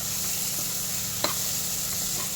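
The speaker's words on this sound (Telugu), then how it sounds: "చింతపండు వేసి బాగా డీప్ ఫ్రై చేసుకోవాలి" Tamarind frying in a pan with tomato and green chillies, a continuous close sizzle with one brief stir or scrape in the middle.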